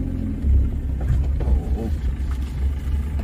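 A motorcycle climbs a misty, rain-soaked hill road past stone quarries, its engine a steady, close, heavy rumble that fills the whole moment without pause.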